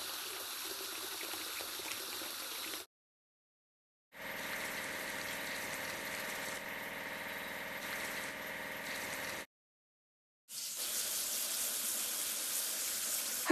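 Steady synthetic spray of water from a kids' vehicle-washing game, a continuous rushing hiss in three stretches broken by two short silent gaps.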